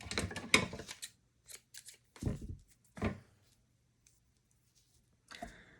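Scissors snip through cheesecloth for a junk journal button cluster: a few short, close cutting bursts separated by pauses, with light rustling of material between them.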